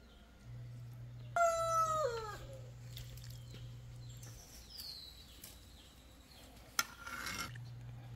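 A rooster crows once, clear and fairly close, over a low steady hum in a kitchen where spaghetti with chicken breast is being made. Faint scattered clatter and a brief sharp click follow.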